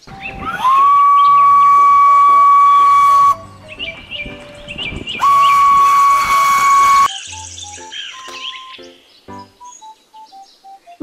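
A Thomas toy train among other toy cars lets out two long, loud, steady steam-whistle blasts, each lasting a few seconds, followed by softer electronic toy beeps and chimes.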